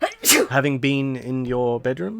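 A sharp allergy sneeze bursts out at the start, quickly followed by a person speaking indoors.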